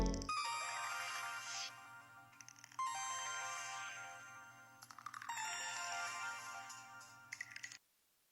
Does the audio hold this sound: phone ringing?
yes